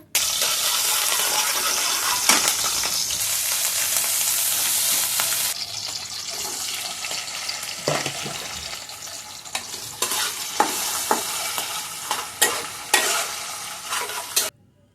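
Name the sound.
onion and capsicum frying with pasta and noodles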